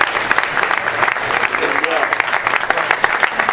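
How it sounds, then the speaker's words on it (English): Crowd at an Israelite men's retreat claps in sustained, dense applause, with voices calling out over it. "I want to give a round of applause to Chief Rabbi Kapos Pune"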